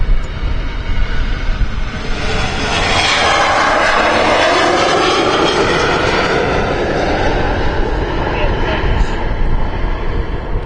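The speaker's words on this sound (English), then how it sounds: "Here we go, another KLM. Looks like a 737 on the roll." A KLM Boeing 737 takes off at Amsterdam Schiphol on runway 36L, the Polderbaan, with a steady, broad jet engine roar that stays loud and even throughout and gently shifts in tone, heard from a distance outdoors.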